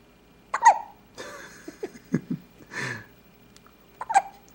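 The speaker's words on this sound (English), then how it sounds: "You got the hiccups." A young child's hiccups: a sharp hiccup at the start and another near the end, with soft vocal murmurs and breathy sounds in between, close and fairly quiet.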